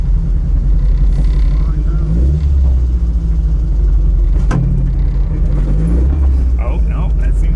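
A Toyota AE86's engine rumbles loudly and close in a garage, with a couple of short rises in revs over the steady idle, while people talk throughout.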